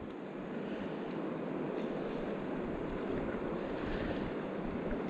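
River rapids at a smallmouth bass fishing spot make a steady, rushing roar of flowing water that holds at an even level throughout, with no voices.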